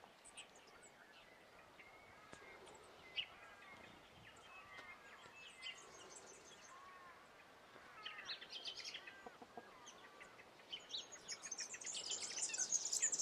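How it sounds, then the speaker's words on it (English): Fairy wrens calling around a disturbed compost heap in a garden, a scatter of high, thin chirps and trills, faint to moderate, growing busier and denser toward the end, with no talk. "These fairy wrens just love it when I've disturbed things."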